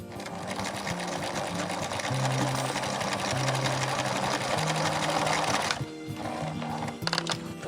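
A sewing machine stitches jersey fabric for hoodie sleeves, whirring loudly and steadily with a fast needle rhythm, then slowing and stopping near the end.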